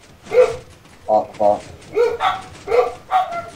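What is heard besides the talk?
dogs barking in Minecraft video game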